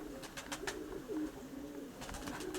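Pigeons cooing softly in a loft, low repeated throaty coos over a steady background hum, with a few sharper bird calls mixed in, fairly close but not loud.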